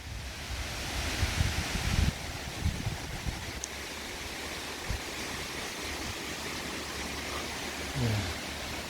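Cascade Falls waterfall in Canada rushing as a steady broadband roar of falling water, continuous and moderately loud, with faint footsteps or handling bumps and no talking.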